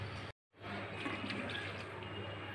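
Water poured into a pan of gravy for chicken dum biryani, a steady close splashing rush that continues after a brief gap near the start.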